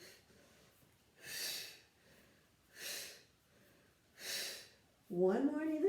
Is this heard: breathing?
yes